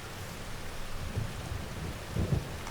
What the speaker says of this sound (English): because it is raining and we're in the field